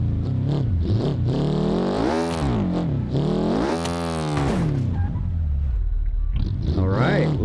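A dragster's engine in BeamNG.drive revs loudly and continuously, its pitch sweeping up and down through several climbing and falling surges.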